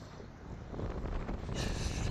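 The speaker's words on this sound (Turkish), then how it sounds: "Aşırı da rüzgar var." Strong wind roars across the microphone during outdoor quadcopter testing in a steady, rumbling rush, with no voices heard.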